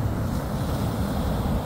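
Rough ocean surf breaking steadily on a cold New England beach at Plum Island, a dense, continuous wash of waves with gusty wind buffeting the microphone and no voices.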